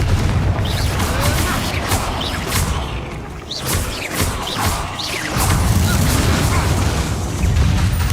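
Repeated Confringo fire-blast spells burst in Hogwarts Legacy, a rapid series of loud booming crashes and impacts over dense game noise, with a voice faintly present.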